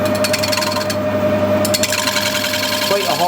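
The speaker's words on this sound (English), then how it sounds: "So now we're able to machine that outside edge without any problems at all, really." A machine tool cutting the outside edge of a plasma-cut steel plate, giving a loud, continuous grinding chatter with a steady tone and short dips. A voice talks over it.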